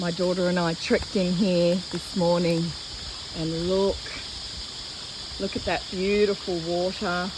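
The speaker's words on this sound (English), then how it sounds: "You can hear the cicadas in the background." A steady high insect drone from cicadas fills a rainforest creek and waterfall setting, a constant buzzing band that runs under a person talking throughout.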